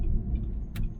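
Audi R8 with a 5-liter Lamborghini-sourced V10 rated at 525 horsepower, a brief steady low engine rumble close by with a short hiss partway through.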